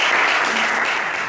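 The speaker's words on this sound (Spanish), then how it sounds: "quiero que le den un fuerte aplauso." A crowd applauds warmly at a book fair event in Bogotá, a dense, even burst of many hands clapping at once, loud and close.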